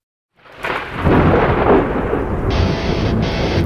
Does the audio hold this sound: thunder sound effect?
yes